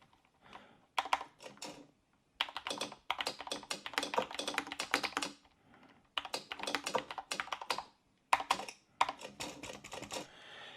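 Typing on a Qwerkywriter 10th Anniversary Edition, a typewriter-style mechanical keyboard: rapid clacking keystrokes in several bursts separated by short pauses, close and clear, with no voices.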